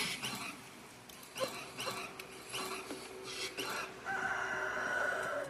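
Chickens cluck in the Roblox video game in a series of bright, repeated bursts over a noisy background, ending in a sustained higher-pitched call, with no talking.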